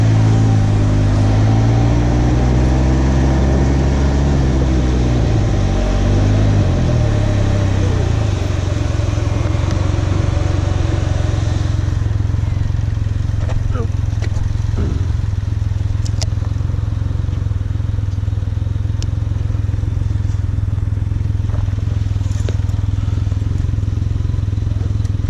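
Engine drone from a Can-Am Ryker three-wheel motorcycle on a work commute, steady and close, with a rising then falling rev early on and a constant low rumble throughout, no voices.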